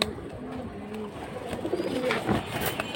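Pigeons cooing nearby among birds offered for sale, soft repeated low coos layered over one another with faint background noise.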